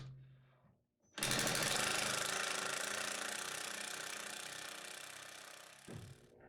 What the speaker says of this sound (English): I can now drive that screw that will lock the tenon into the mortise